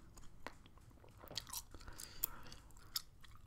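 Gum chewing in close, quiet ASMR style: soft, irregular wet smacks and crackles, faint and intimate, with no talking.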